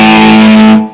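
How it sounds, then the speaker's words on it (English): Distorted electric guitar chords from a song sliding down just before the chorus, a loud sustained buzzing chord that cuts off and fades within a second. "the last chords that you do just before the chorus are usually sliding down"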